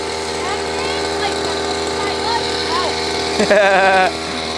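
A gasoline-powered Kawasaki farm-tool engine runs at a steady, close drone with harmonic whine, rising briefly near the end, while voices talk and laugh over it.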